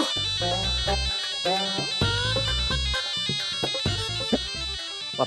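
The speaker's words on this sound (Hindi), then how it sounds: "पप्पी सर का फोन" A phone ringtone plays in a Hindi family comedy scene, a loud repeating electronic melody with bright tonal beeps in a steady rhythm, continuing for several seconds with no talk over it.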